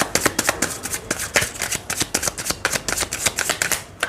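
Tarot cards being shuffled during a Scorpio monthly reading, a rapid run of crisp, close papery riffles and flicks in an uneven rhythm, alone without talk.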